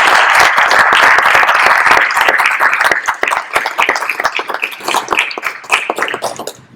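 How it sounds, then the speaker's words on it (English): Round of applause at a school district board of education meeting for the HR department, starting loud and dense, then thinning into scattered individual claps that fade out near the end. "I ask that we give them a round of applause."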